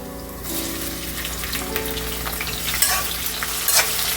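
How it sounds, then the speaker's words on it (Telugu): Chopped onions and tomato fry in a pan for Rayalaseema-style uggani, giving a continuous close sizzle broken by scraping stirs and crackling bursts. "ఆనియన్స్ మంచిగా వేగాయి కదా, కొంచెం రెడ్ కలర్లోకి మారుతున్నాయి. ఇప్పుడు టమోటో వేసేద్దాం."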